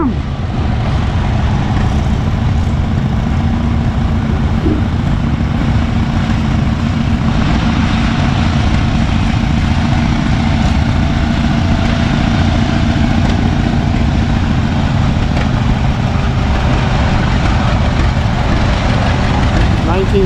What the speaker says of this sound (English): That's cool, man, to see these old tractors still running.